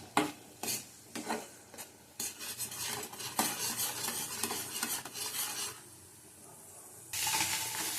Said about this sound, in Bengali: অল্প জল দিয়ে দেবো, ভালো করে কষিয়ে নেব।